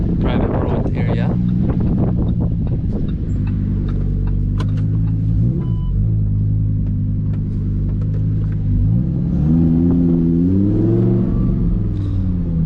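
Lamborghini Huracan EVO V10 with Novitec parts driving on a public road, a deep engine drone rising in a couple of revving swells, with wind noise and someone talking throughout.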